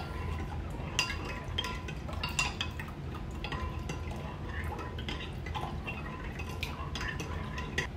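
Steady whisking of a mixture in a bowl for an orange mahi mahi sauce, with continuous busy clinking and scraping of utensil against the bowl, close and even throughout, with no talk.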